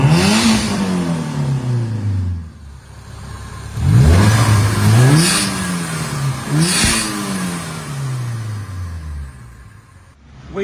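A supercharged Suzuki Vitara engine revs hard in several rising and falling bursts, its pitch sweeping up and dropping back repeatedly, loud and close with no talk.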